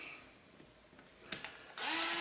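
Light clicks and handling noises come first, then a power drill fitted with a 1/16 inch bit kicks in loud and close, boring a hole in a 380 quadcopter frame.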